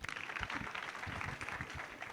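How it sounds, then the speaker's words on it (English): Audience at a high school alumni day clapping for a former principal, a brief burst of scattered hand claps at moderate distance lasting a couple of seconds. "Can you clap for him?"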